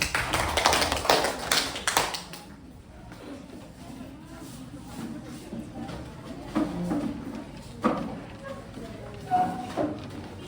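A classroom of pupils claps in a short burst for about two seconds after a group presentation, then fades under quieter room noise and a teacher's voice.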